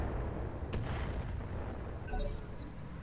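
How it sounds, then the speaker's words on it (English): Mortar fire from an R-59 mech in the Roguetech battle game booms as a deep, rumbling low blast with scattered crackling impacts, fairly loud and continuous, with no voices over it. "So that's the mortar from the R-59"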